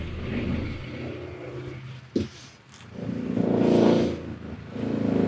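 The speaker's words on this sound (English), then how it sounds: "we turn on the pump" A travel trailer's onboard water pump runs while winterizing, drawing RV antifreeze from a jug; a steady, close motorized hum and whir with one sharp clack partway, then the drone swells and continues.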